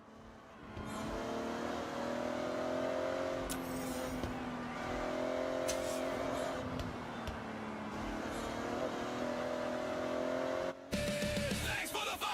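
A Toyota Supra sliding in the Forza Horizon driving game, its engine droning steadily with wavering pitch as the rear steps out, tire noise layered over the drone, close and continuous, no talk.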